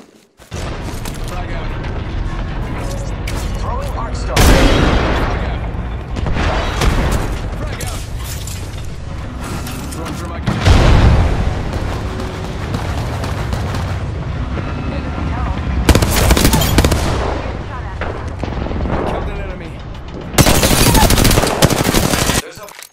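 Heavy automatic gunfire from the video game Apex Legends roars in long, loud close bursts mixed with booming blasts, and a voice talks between the volleys.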